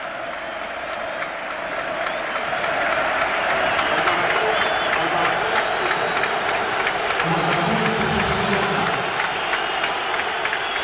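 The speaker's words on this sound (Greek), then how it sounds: "παίρνει το θερμό χειροκρότημα από την εξέδρα" Warm applause and crowd noise rise from the stands at a PAOK versus AEK football match as a substitute player enters, a broad sustained roar of clapping that builds and holds steady throughout.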